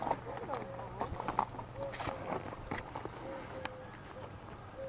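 Horses walking along a coastal backcountry trail, scattered hoof clops and rustling at moderate distance, with people talking quietly over them throughout.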